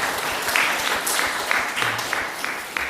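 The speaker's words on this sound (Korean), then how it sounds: "우리 환영의 박수 드리겠습니다" Korean church congregation at a Sunday worship service in Darmstadt gives a short round of welcoming applause, a brief burst of many hands clapping that stays fairly even and moderately loud throughout.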